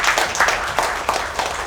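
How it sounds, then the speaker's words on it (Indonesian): Audience applause at a grand launch event for a fertility clinic in Indonesia, a dense, steady wash of many hands clapping close by, loud and continuous with no talk over it. "Boleh tepuk tangan untuk inspiring team."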